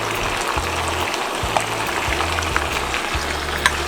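Chicken sizzling in a pan with ginger, a steady broadband frying hiss with small pops and crackles running throughout, close and fairly loud, with a low hum beneath.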